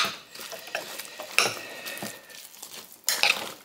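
A metal spoon clanks and scrapes against a cooking pot while stirring beef stew, a few sharp knocks, the loudest near the middle and end, with softer scraping between them.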